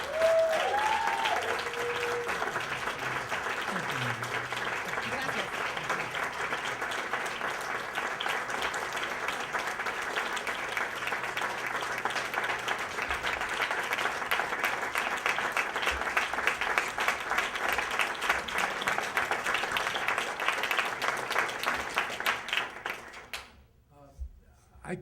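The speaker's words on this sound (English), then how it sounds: "So please, everybody, one more round of applause for our hero today" A conference audience gives Sal Castro, honored at the Chicano Youth Leadership Conference in May 2006, a long, loud, steady round of applause that fills the hall for over twenty seconds before fading out near the end.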